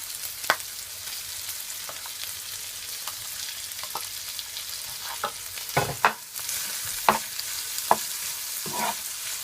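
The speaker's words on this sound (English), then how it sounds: "So after around 7 minutes, you're gonna add your butter." Steak frying in butter in a pan on a stove over medium heat, a faint steady sizzle punctuated by repeated spatula scrapes and taps, with no voices.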